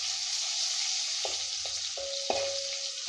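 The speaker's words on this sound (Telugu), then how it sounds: "అల్లం వెల్లుల్లి పేస్టు ఎర్ర రంగు వచ్చే వరకు వేపుకున్న తర్వాత ఒక రెబ్బ కరివేపాకు వేసుకోండి" Curry leaves and ginger-garlic paste frying in hot oil, a steady close hiss and sizzle with a few soft stirring knocks and spatters, no voices.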